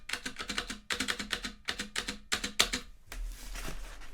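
Close, loud typing on a new Model F Labs F62 Kishsaver keyboard in quick rhythmic bursts of sharp clacks with short pauses between them, ending in a softer rumbling rustle.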